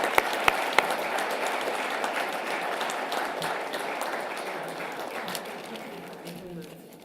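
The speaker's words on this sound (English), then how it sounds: "I would like to give you all a little thank you and a big applause for having supported us." Audience applause at a patient-education workshop in Dublin: a dense, steady patter of many hands filling the room, gradually tapering off toward the end.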